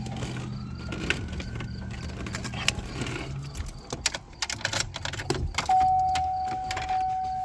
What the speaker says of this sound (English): Once you get it all out, you can put the key in there.